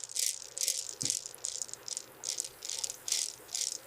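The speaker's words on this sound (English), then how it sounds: "The sieve is gently agitated to ensure every surface is rinsed clean." Pearls rattling in a gently agitated stainless steel sieve, a rhythmic series of bright, clattering shakes, about eight even pulses close up, with no voices.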